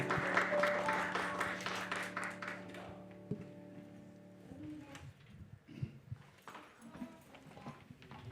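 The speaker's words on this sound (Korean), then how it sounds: "우리 하나님께 영광의 박수를 드립니다" Congregation clapping at a Korean church retreat welcome and blessing gathering: dense, moderately loud applause for about three seconds over sustained keyboard tones, then tapering into scattered claps and room noise.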